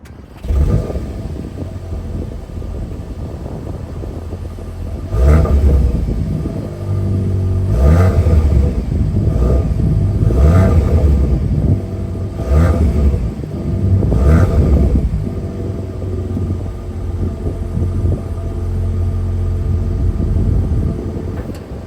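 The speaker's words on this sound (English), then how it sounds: "I'm gonna have you guys have a listen of the exhaust at the back." A 2024 Audi S3's exhaust rumbles low and loud up close at the rear, idling steadily and swelling in several revving bursts before settling back to a deep drone.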